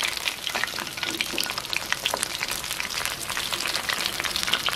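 Navratri snacks deep-frying in hot oil, a steady dense crackling sizzle with scattered bright pops, close and continuous throughout with no voices.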